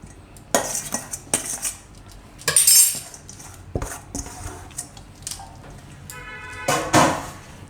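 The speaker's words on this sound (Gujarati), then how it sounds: "અને આ પૌવા આપણે એકદમ સરસ પલળી ગયા છે. તો હવે આ પૌવા નાખી દઉં આપણે આમાં." Spoon scraping and clinking against a bowl as soaked poha (flattened rice) is added, a series of sharp metallic knocks and scrapes spread irregularly, with a louder cluster near the middle and the end.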